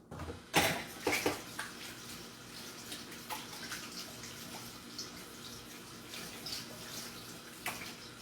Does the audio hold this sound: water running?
yes